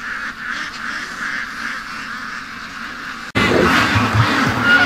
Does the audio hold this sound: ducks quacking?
yes